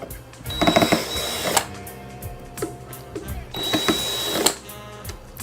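Screws being worked loose from the casing of a JBL Venue Sub 10 subwoofer, heard as two bursts of rapid clicking, ratcheting turns with light metallic ticks, close up with faint background noise between them.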